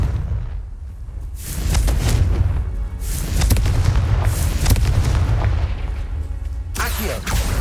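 Confringo fire spell in Hogwarts Legacy, heavy booming blasts rolling over a dense low rumble, with a sharp crack near the end, loud and continuous across the stretch.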